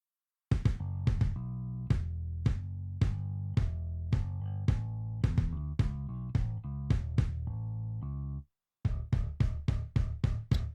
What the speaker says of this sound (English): if I'm to solo the bass and the kick together without the sidechain